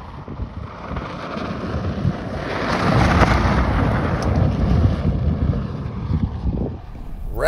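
A Rivian R1T electric pickup drives fast on a dirt trail in rally mode, giving a loud, continuous low rumble of tires on dirt with heavy wind buffeting that swells midway and stays steady, with no speech.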